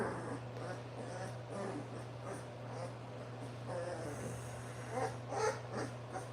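A black Boerboel puppy growls and whimpers softly while eating, with low snorts and breathing over a steady electrical hum, faint and close, with a few small yips near the end.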